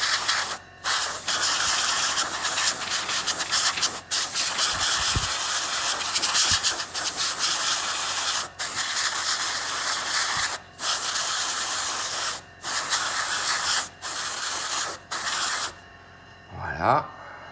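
An airbrush sprays paint onto a futuristic door in long, steady hissing bursts. Each burst breaks off with a brief pause, and a few faint background sounds come between them.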